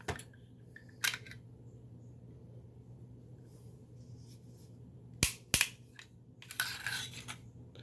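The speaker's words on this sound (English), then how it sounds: "This little button you push here, and a lever you turn, which pops the barrel off." IMI Desert Eagle .357 pistol being taken apart, with sharp metallic clicks and a double snap as the button and lever release the barrel, close and fairly loud over a low background hum.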